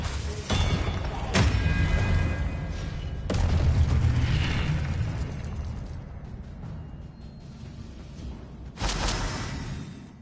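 Spell blasts in the Hogwarts Legacy video game, several booming explosive bursts separated by rumbling decay, each one sudden and loud with a low roar trailing off.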